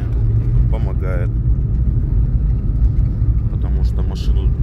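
A Lada Niva car drives along in winter with a steady low engine and road rumble filling the cabin, while someone talks over it.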